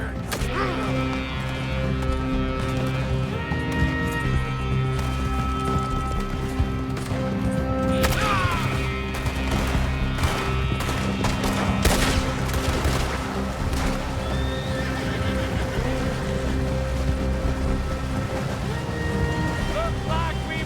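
Gunfire crackles in a chaotic shootout during a river chase in Red Dead Redemption 2, sharp shots and bursts scattered over a dense bed of rushing noise, hoofbeats and shouting voices.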